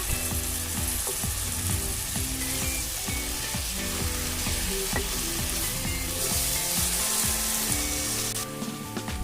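Spinach and fenugreek leaves sautéing in a pan give a loud, close, continuous sizzle broken by quick rhythmic scraping and clattering strokes of the spatula against the metal.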